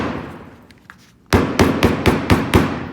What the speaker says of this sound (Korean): 망치로 한 번씩 다 쳐주시면 됩니다